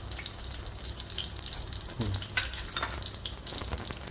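Dried kasuri methi goes into a hot, sizzling tempering for Rajasthani kadhi. The oil hisses and crackles steadily and quietly close up, with a brief spatter when the leaves hit the pan.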